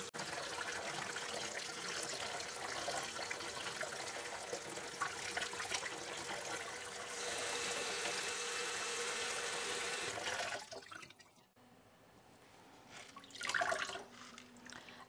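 Warm tap water pours over a plant for a long stretch, a steady close rush and trickle that stops abruptly near the end and then gives way to quieter dripping and handling.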